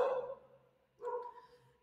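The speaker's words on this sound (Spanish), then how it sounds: "Mi perrita se pone nerviosa cuando está escuchando otros ladrar." A small dog barks nervously, two short close barks about a second apart, each trailing off, with no talking over them.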